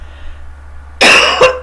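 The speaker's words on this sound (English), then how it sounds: "I hate coughing." A short burst of harsh coughing, loud and close, with a second smaller cough following, after a stretch of quiet room hum; a man coughing while sick with COVID.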